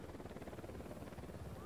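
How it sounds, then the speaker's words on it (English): An enemy helicopter in the video game Ghost Recon Wildlands thrums with a steady rotor chop, a loud continuous pulsing drone filling the short stretch without talk. "you don't get mowed down by the freaking chopper."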